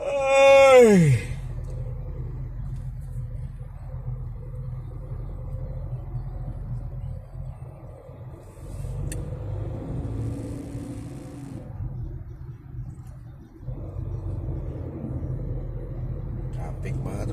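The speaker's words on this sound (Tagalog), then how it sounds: "Traffic ng Skyway." Road traffic on the Skyway elevated expressway between Alabang and Makati heard from inside a vehicle, a steady low rumble of engines and tyres with a brief loud swell at the start, while people talk over it.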